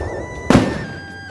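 A single Diwali firecracker bursts in one sharp, loud crack that fades quickly into a faint hum.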